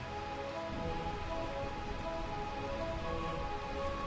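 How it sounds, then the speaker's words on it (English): Rain falling steadily in Burmecia, Final Fantasy IX: a soft, constant patter and hiss of raindrops on surfaces that continues evenly throughout, with no voices. "It just always rains here."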